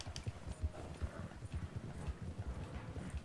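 A horse's hooves clip-clop in a steady walking rhythm in Red Dead Redemption 2 Online, soft and fairly quiet over faint game ambience.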